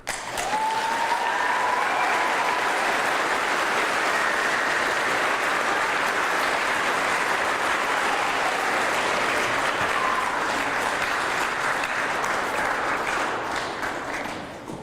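A middle school Veterans Day audience gives sustained, dense applause welcoming an Army First Sergeant, steady and full for about fifteen seconds before tapering slightly at the end.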